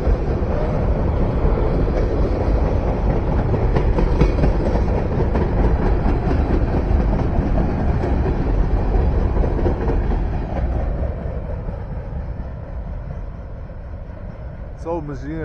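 Norfolk Southern freight train rolling past on the Lehigh Line at Phillipsburg, a loud continuous rumble and rattle of railcars with wind buffeting that eases slightly near the end.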